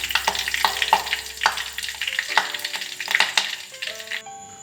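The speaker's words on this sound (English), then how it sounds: "Now as you can hear a sizzling sound, just like this, you have to boil this for about 5 minutes." Herbal hair oil sizzles and crackles as it boils in a pan, with dense popping bursts and steady frying hiss, close and fairly loud, with no voices.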